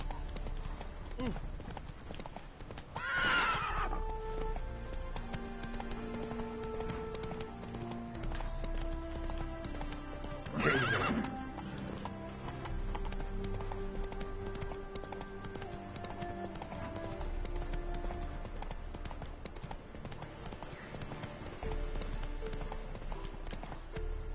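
Roach, a horse in The Witcher 3: Hearts of Stone, gallops with continuous quick hoofbeats under game music, with two short whooshing bursts along the way and someone speaking at times.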